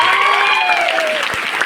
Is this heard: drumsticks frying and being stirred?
no